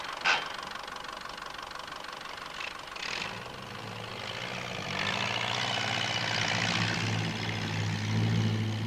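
A Ferguson TE20 tractor driven by a first-time driver, its engine idling and chugging steadily, with a low rumble that grows louder midway as it pulls away, close by.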